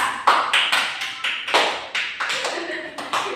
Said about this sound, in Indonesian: Tepuk tangan buat Anissa.